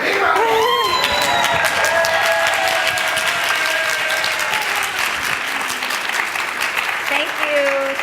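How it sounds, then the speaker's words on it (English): A large audience at a fundraising talk breaks into loud, sustained applause with some cheering. The dense clapping is steady throughout, and raised voices ring out over it. "I suggest we give a big round of applause"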